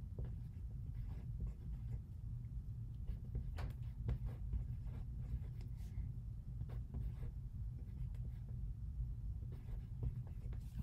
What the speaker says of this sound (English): I'm going to write down the number that you have to get to